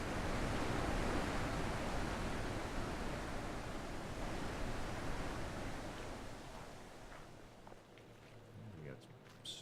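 Rushing waterfall ambience from the video game The Witness, a steady broadband roar that is loudest at first and eases slightly, with a voice talking over it throughout.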